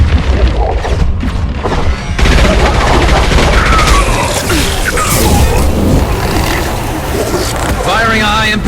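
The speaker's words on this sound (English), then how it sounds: "Firing a high-impact shot!" High-impact gunshot fire in the Mass Effect video game, loud booming blasts and crashing impacts in dense, sustained succession amid heavy battle noise.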